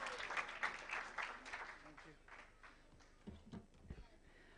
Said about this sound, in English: Let's give him an applause as he comes on stage.